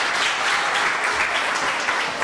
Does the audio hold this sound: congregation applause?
yes